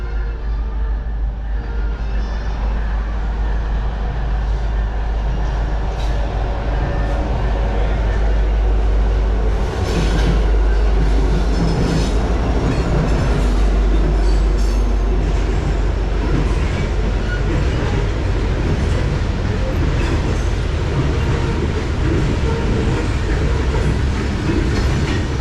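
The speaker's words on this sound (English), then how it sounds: "another Norfolk Southern freight came by on the main line" A Norfolk Southern freight train passes on the main line, with a loud, continuous rumble and rolling wheel noise, faint clickety-clack and occasional metallic squeals that swell midway and hold throughout.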